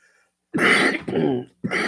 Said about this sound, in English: I'm going to cough now